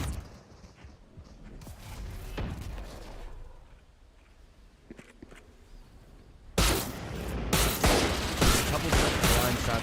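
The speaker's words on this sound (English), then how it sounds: "Couple blind shots there." Gunfire from a Valorant match, with a few scattered shots early, then a sudden loud burst of rapid fire and explosive blasts filling the final seconds.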